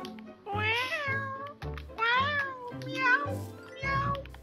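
Cat meowing in the video game Minecraft: four drawn-out, rising-and-falling meows in steady succession, fairly close and clear.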